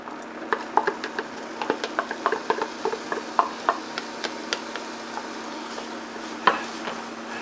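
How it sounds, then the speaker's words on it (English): Chopped Cajun trinity of onion, celery and bell pepper dropped into hot oil in a pot, with a low steady sizzle under scattered clinks of utensil on cookware and soft stirring taps, close and moderately loud. "our oil has heated up a little bit, so let's go ahead and we're going to put our Trinity in here first"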